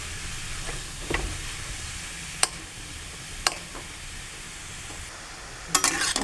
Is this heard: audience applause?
no